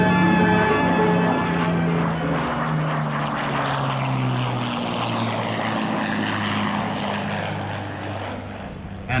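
A propeller aircraft takes off on its first flight, its engines droning loudly and steadily with a falling pitch as it pulls away.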